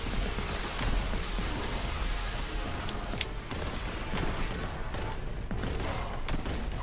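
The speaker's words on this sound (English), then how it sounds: "Plasma gun." Plasma gun fire in the Warhammer 40k: Boltgun video game, a steady, dense barrage of blasts and impacts that carries on without pause at moderate loudness, with no voices.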